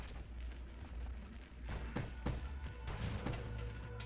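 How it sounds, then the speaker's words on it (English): Fireworks burst in the space shooter game Nova Drift, a few quiet, sharp booms and crackling blasts scattered over a low, continuous rumble of game sound. "we got our little fireworks going off every now and again"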